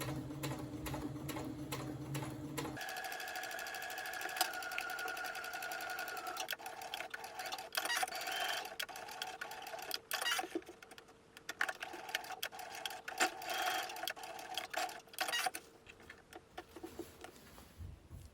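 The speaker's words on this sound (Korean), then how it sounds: "겉감은 반으로 접어 양옆을 1cm 간격으로 쭉 재봉해주고요." A sewing machine stitches the side seams of a fabric camera pouch at a 1 cm seam allowance, running in a steady, rapid patter at close range with brief pauses, no talking.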